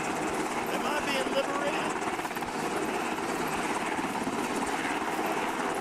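Steady, loud helicopter drone in the Arma military game, rotor thump and turbine whine running unbroken throughout, close and dominant.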